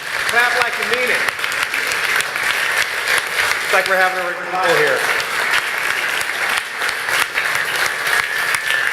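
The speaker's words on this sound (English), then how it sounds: "Clap like you mean it." A conference audience breaks into loud, sustained applause that fills the hall, with someone speaking over the dense clapping.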